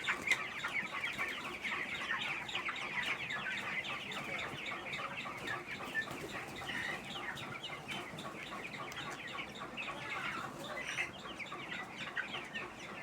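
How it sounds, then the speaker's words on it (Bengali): A flock of chickens on a poultry farm clucks and chatters steadily at moderate volume for the whole stretch, with overlapping calls and no talking. "কত মুরগি সুস্থ আছে দেখে মুরগিগুলো খেলা করতেছে"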